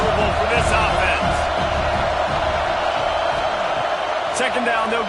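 Steady roar of a stadium crowd in an EA Sports College Football 26 game, Syracuse Orange against Notre Dame Fighting Irish, a dense continuous wash of noise with a few brief sharp peaks, under commentary.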